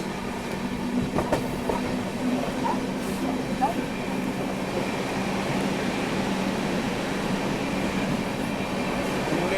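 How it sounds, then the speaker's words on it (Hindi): A Mumbai–Nagpur Duronto express train rumbles steadily along the rails at night at high speed, overtaking another train, with a continuous roar and faint rhythmic clatter of wheels throughout. "यहाँ ओवरटेक कर रहे हैं हम लोग पुणे नागपुर सुपरफास्ट को"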